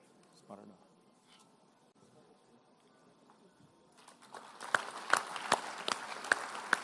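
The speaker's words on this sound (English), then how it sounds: "Loud round of applause, please, everybody." During a university anniversary medal ceremony, a quiet hall with scattered faint voices gives way to a swelling burst of audience applause with sharp, close individual claps in the final seconds.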